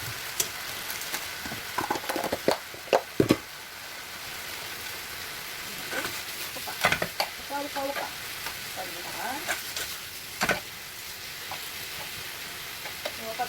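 Garlic stir-frying in a pan, a steady close sizzle with scattered scrapes and taps of a utensil stirring, a few louder clacks early on.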